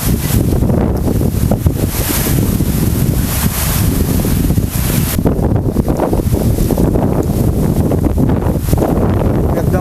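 Strong wind in rainy weather roars and buffets the microphone steadily throughout, a loud continuous rushing with gusty surges.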